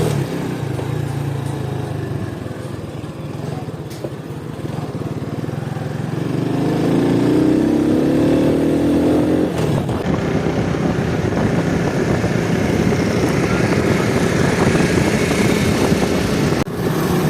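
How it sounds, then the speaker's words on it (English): A motorcycle on a quick speed run, its engine droning steadily and building in loudness partway through, with wind rushing over the microphone throughout and no talk. "Let's give it a quick speed run and see what it"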